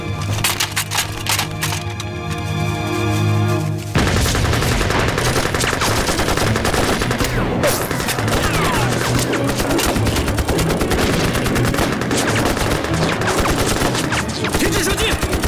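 Gunfire in a war film battle scene, sharp repeated shots and bursts of machine-gun fire, loud and dense, turning into a continuous chaotic roar of firing mixed with cracks and debris.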